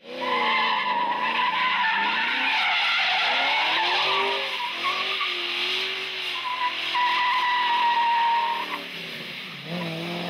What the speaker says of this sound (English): some burnout action down here at Meremere